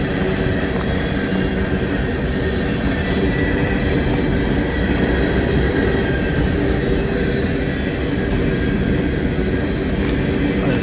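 A long freight train rolls past near a rail junction at night, giving a loud, continuous rumble and rattle of wagons that stays steady the whole time with no pauses.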